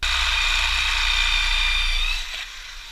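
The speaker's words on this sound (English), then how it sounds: "With that done, it's time to drill them." A steady, high-pitched power drill whines continuously at close range while drilling holes in a metal bracket for a fire extinguisher mount in a Mazda RX-8, then winds down near the end.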